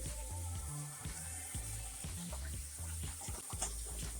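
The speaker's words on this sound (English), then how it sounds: "Wash your hands." Hands are washed with soap under a running tap, water splashing and trickling unevenly into a sink with soft rubbing and small spatters, close and alone.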